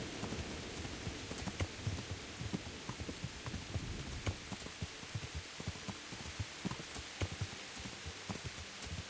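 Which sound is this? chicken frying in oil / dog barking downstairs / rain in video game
rain in video game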